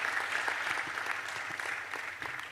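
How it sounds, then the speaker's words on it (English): Sustained audience applause at a WASH innovation fair, a steady dense wash of many hands clapping for the full stretch with no voices over it. "can you please give Mr. Emmanuel a round of applause?"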